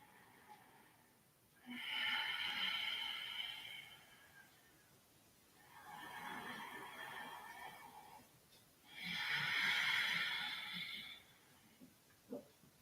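Three long, slow ujjayi breaths during yoga, each a soft, steady ocean-like hiss from the throat, evenly spaced with quiet pauses between, close and alone with no talking.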